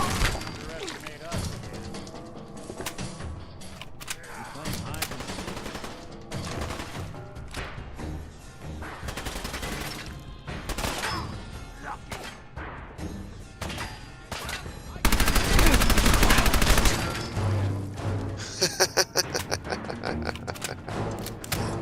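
Video game Fallout 4 gunfire comes in dense rapid bursts of shots with loud sustained volleys, mixed with game music and effects while a player talks over it.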